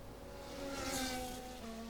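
A Mercedes Formula 1 race car screams past at the Miami Grand Prix qualifying, its high-pitched engine whine steady and loud with a rising, whooshing swell at mid-pass, no voices heard.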